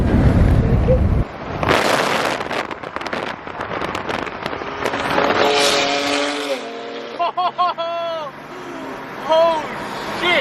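A fast car at a Los Angeles car meet accelerates hard with loud bursts and pops from the exhaust, up close, then revs fade as people shout and talk over the scene.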